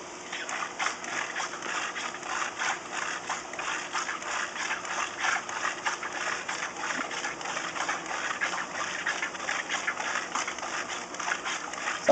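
A Marineland aquarium canister filter being hand-pumped to prime it, a steady rush of gushing and splashing water with rhythmic pulses, close and continuous.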